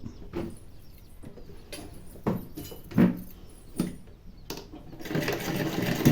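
A sewing machine stitches a plain blouse in short bursts of whirring, with pauses between runs and a longer, steadier run of stitching at the end, close by and moderately quiet.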